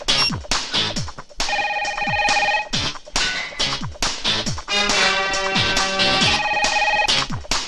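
A telephone rings in a repeated electronic ringtone pattern of bursts and short pauses, loud and near, with no talk over it.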